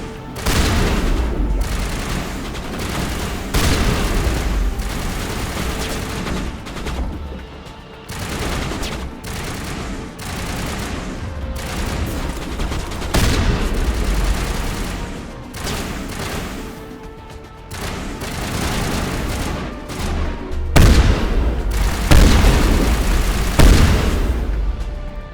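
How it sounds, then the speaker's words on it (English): Rapid shotgun blasts and booming explosions from Mass Effect 1 combat on Insanity difficulty, including explosive rounds, crowd together in a dense, continuous barrage that stays loud throughout with no pauses. "Shotgun is so good, it literally, boom, that's it, it's over. Especially explosive rounds."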